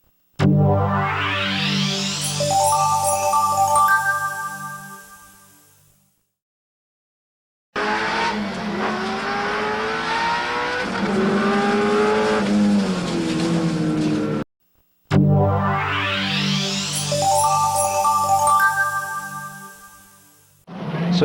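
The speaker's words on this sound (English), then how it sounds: "Super 6 Series, all six-cylinder cars, and on the pole in car 24, Gary Martin" Six-cylinder Super 6 Series touring cars, including a 4.3-litre Datsun Bluebird, race on a circuit, engines roaring loudly past in repeated passes with rising and falling pitch and brief gaps of silence between.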